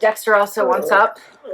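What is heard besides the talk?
No everyday noise stands out behind the speech.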